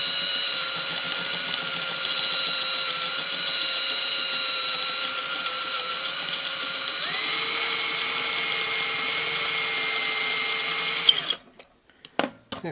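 A power drill drilling out a rivet on a Ford Falcon XF door handle, a loud, steady whine held at close range whose pitch drops partway through, then it stops abruptly with a few clicks.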